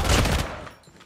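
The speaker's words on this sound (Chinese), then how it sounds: "可以啊，你就疯狂腰射试试看" Burst of rapid gunfire from hip-firing in a mobile battle-royale shooter game, a loud dense volley for under half a second that quickly fades into quieter ambience.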